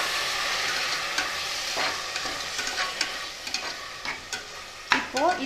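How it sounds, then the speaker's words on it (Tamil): Chopped tomatoes stirred into frying onions in a pan for tomato rice, making a steady close sizzle broken by scraping stir strokes, with no voices. "இப்போ நம்ம கட் பண்ணி வச்சுருந்த தக்காளியை இது கூட ஆட் பண்ணிக்கலாம்."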